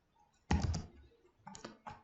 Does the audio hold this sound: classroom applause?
no